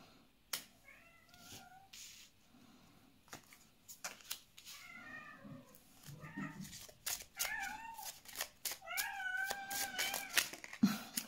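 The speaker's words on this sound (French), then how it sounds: "C'est mon chat qui joue avec son doudou." A cat meows repeatedly while playing with its soft toy indoors, the calls coming in bursts between light rustling and tapping, fairly close and moderately loud with no talk.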